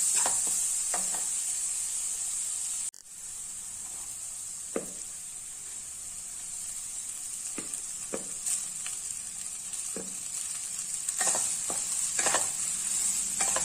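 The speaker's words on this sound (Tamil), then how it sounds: "நம்ம இப்ப சாதத்தை இதோட கலந்துடலாம்" Cooked rice stirred into vegetable fried rice with ground pepper in a pan with a wooden spoon, giving a steady sizzle beneath scattered scraping and stirring knocks at irregular intervals.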